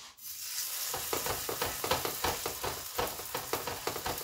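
Thin msemen dough, a Moroccan flatbread stuffed with ground chicken, frying in a pan, a close steady sizzle with rhythmic scraping and rubbing strokes repeating about every half second.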